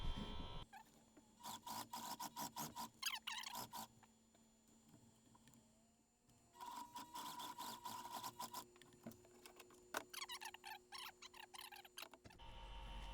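A sewing machine stitching a rubber band along a fabric edge, running in several rapid bursts of needle clatter with short pauses between, fairly close and with no talk.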